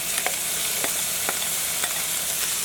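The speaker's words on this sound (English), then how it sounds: "Just gonna stir fry that." Onion, peas, carrots and alligator meat stir-fry in a pan for Cajun alligator fried rice, giving a loud, continuous sizzle. Several scraping stirs of the utensil are spaced through it, and no one talks.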